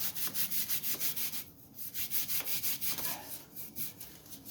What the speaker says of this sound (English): Give it another scrub.